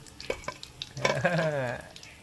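Breaded chicken fingers frying in hot oil, a soft crisp crackle and sizzle that swells midway and then settles, close by and fairly quiet.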